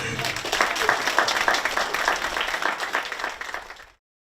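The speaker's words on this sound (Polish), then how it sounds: "Brawa wielkie Pani Wando." Steady applause from an audience at an open-air theatre performance held at a marketplace, a dense wash of clapping that holds for several seconds and then cuts off abruptly.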